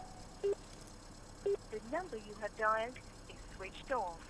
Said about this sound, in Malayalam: നിങ്ങളുടെ ഫോണിൽ വിളിച്ചു നോക്ക്.